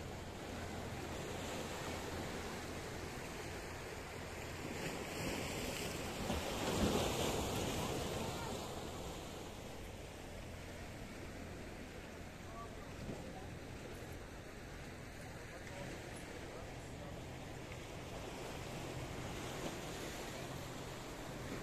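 Surf washing against a harbour shore at Kato Paphos, Cyprus, heard as a steady broadband wash with wind buffeting the microphone and a brief swell around seven seconds, no talk.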